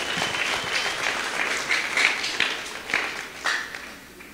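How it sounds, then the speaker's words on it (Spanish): Applause from guests at a wedding ceremony in a church setting, a steady wash of many hands clapping for several seconds, moderately loud and fairly close, with no talking over it. "gracias por esos aplausos"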